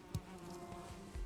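Bees buzzing around a beehive in a survival video game, a steady faint drone with a couple of soft low thumps, no voices.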